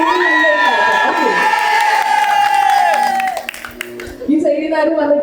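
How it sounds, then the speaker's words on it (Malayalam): Wedding guests at a Haldi ceremony clap and cheer loudly together, with whoops and excited voices over the applause, which dips briefly near the end and then swells again. "ഋഷിയുടെ സൈഡിൽ നിന്ന് നല്ലൊരു ക്ലാപ്പ്"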